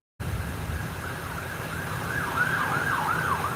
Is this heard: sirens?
yes